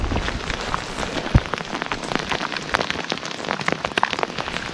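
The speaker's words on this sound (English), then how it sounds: "It's actually hailing." Dense hail or heavy rain drums steadily on a surface outdoors, a continuous loud patter with scattered sharper impacts and no voices.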